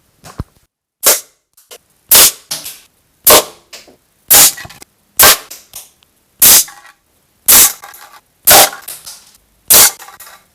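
Umarex NXG APX air rifle firing at cans outdoors, about ten sharp, loud shots at a steady pace roughly a second apart, each with a short metallic ring or knock, no talking.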